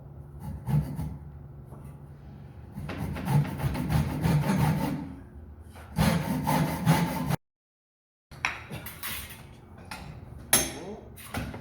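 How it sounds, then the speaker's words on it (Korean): A hand saw rasps through timber for a roof truss in several bursts of quick strokes, with short pauses and a brief silence between runs. "톱질하고 가운데다 한 번 더 톱질을 해줘"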